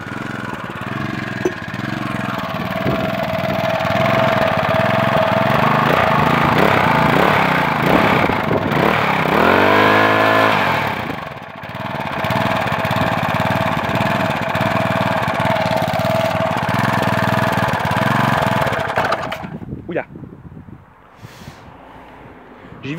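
A Briggs & Stratton 375 Sprint petrol engine runs loudly and steadily nearby, its pitch dipping and revving briefly midway before cutting out near the end.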